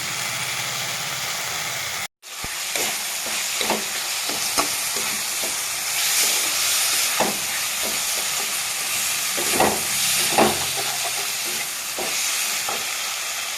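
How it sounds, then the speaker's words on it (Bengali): Curry with banana flower and chili frying in a pan gives a continuous close sizzle, broken by repeated scraping and tapping of a stirring spoon, after a brief cut to silence near the start. "মরিচ কেটে এই তরকারি কষানো হয়ে গেছে আমার"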